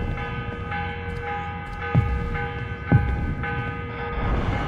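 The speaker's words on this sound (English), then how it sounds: "Is that the NASDAQ? The morning bell?" A morning bell rings in Assassin's Creed: Revelations, two distinct strikes about a second apart over a steady tonal hum and low throbbing drone, with no voices.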